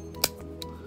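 Plastic start button housing on a BMW F30 snapping together, two small sharp clicks close by, the first louder than the second, with no talking.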